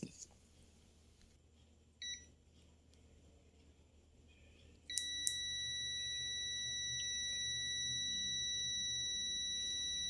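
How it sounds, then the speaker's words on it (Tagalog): A multimeter sounds its continuity beep as it tests an SPDT switch. After a few faint blips, a steady high electronic tone starts about halfway through and holds to the end. "push the button to get a beep"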